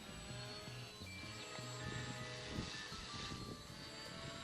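A drone hovers and flies close by, giving a steady, fairly loud motor whine with shifting tonal hum and some rumble, with no speech.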